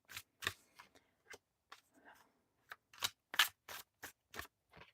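A deck of tarot cards being shuffled up close, with a string of sharp, irregular riffling and snapping bursts and brief pauses between them, with no talking.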